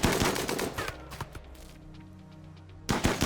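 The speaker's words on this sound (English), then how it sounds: "She keeps getting pelted by the LMG and just can't connect her shots" LMG machine gun fire in the video game RimWorld comes as rapid bursts of loud shots, a dense opening volley, a quieter gap, and then another burst at the end.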